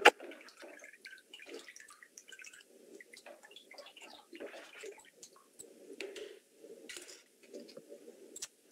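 A handmade paper sheet is dropped back into a vat of water slurry, giving soft wet drips, squishes and light splashes in a quiet close-up setting, with faint irregular trickles throughout.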